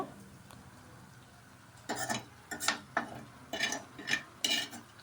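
Dried prawns stirred in a frying pan, a quiet sizzle broken by a series of sharp scraping stirs with a utensil, irregular bursts in the second half.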